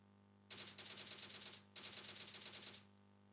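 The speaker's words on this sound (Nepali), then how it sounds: "आई गोली चल्यो त" Video-game gunfire played on an emulator comes as two bursts of rapid automatic fire, each lasting about a second, separated by a short pause and clear of talk.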